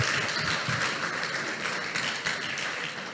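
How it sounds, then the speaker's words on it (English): An audience claps for the fathers in the house, a steady wash of applause filling the room at moderate level for a few seconds without a break. "Can you clap for all the fathers again?"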